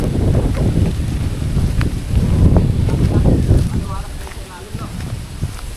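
Wind buffets the microphone with a low, steady rumble, and people talk close by through much of it.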